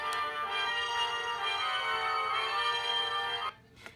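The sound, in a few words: children's sound book playing an orchestra tuning up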